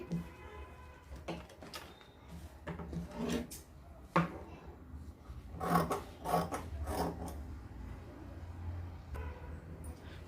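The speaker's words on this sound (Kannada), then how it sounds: "ಮೊದಲು ಇದು ಬಾರ್ಡರ್ ಕಟ್ ಮಾಡಿ" Scissors cutting through the border of a saree fabric give close, quiet rasping snips and rubbing fabric rustles in irregular bursts, with no talking.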